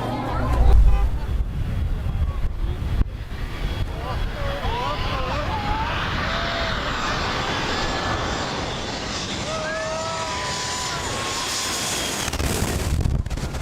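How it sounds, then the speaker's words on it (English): A Bell 206 LongRanger helicopter going down at a 1992 show, its engine drone steady with wind buffeting and rising whines, voices talking over it. "A Bell 206 Long Ranger helicopter crash was caught on video, capturing the dramatic moment it went down."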